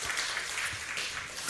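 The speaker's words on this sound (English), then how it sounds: "let us give her the final hand clap" Audience applause at a live launch and graduation event, a dense, even patter of many hands clapping at moderate distance, sustained without a break and with no talk over it.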